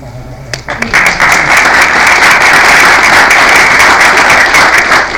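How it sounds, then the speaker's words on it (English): Loud, dense applause from an audience at a tech meetup, swelling after a brief lead-in and holding steady for several seconds, with a few voices mixed into the clapping. "So this is somebody you want to applaud for really loud"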